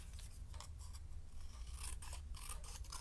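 Paper card being cut down for a handmade card, a quiet series of short crisp snips and rasps repeating unevenly, close by with no talking.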